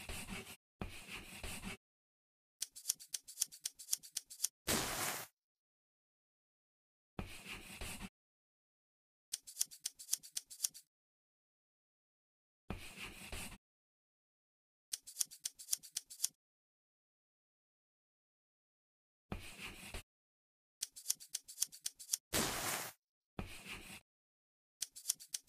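Scissors snip out a clothing pattern in a sewing dress-up game, in short bursts of quick crisp cuts separated by silent pauses, close and clean with no talking.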